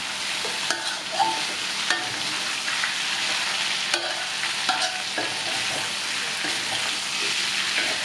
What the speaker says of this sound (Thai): เห็ดหอมเนี่ยต้องให้เขาโดนน้ำมันสักหน่อยหนึ่ง